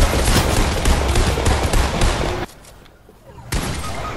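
Enemy gunfire in Fortnite crackles as a dense, loud burst of rapid shots, breaks off for a moment, then resumes abruptly, with faint player voices mixed underneath.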